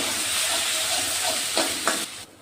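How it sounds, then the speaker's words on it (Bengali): Kashmiri chilli powder and salt fry in a pan with a steady, close hiss of hot oil, two quick scraping stirs near the end, then an abrupt drop to near quiet. "এখন এগুলোকে আমি ভালো করে কষিয়ে নেব।"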